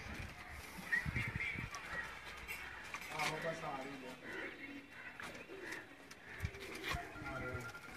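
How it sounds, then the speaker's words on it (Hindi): Old Sheikh-strain pigeons coo softly at a loft in Sialkot, low throaty calls coming in short bursts beneath background voices and scattered clatter. "ये वो कबूतर हैं"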